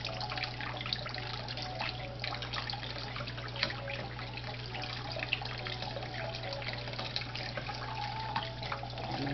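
Cold tap water runs steadily over hard-boiled eggs as they are peeled at a kitchen sink, a continuous close trickle and splash with a constant low hum underneath.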